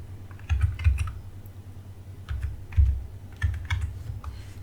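Typing a verification code on a computer keyboard: short clusters of quick key clicks in three bursts with brief pauses between, close and fairly quiet, no talking.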